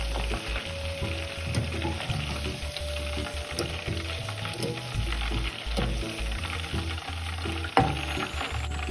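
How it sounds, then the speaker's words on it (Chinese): Oil sizzles and crackles steadily as pork pieces deep-fry, a dense continuous hiss with occasional pops and a low rumble underneath. "油炸至表面金黄熟透"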